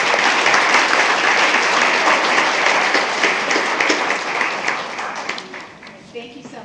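Board meeting audience gives sustained, dense applause from many hands filling the room, steady and loud before fading out over the last second with a few stray claps.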